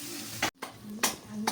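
Potatoes frying in a hot pan, a steady sizzle broken by several sharp stirring scrapes at regular intervals, close up.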